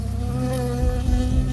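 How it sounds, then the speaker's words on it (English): A bee buzzes in the video game Firewatch: a continuous droning hum close by with slight wavering in pitch, heard alone. "got stung by a bee"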